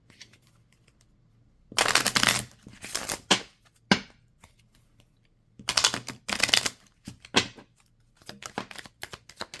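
A deck of tarot cards is shuffled close by in quiet surroundings. Several distinct bursts of riffling and flicking are separated by short pauses.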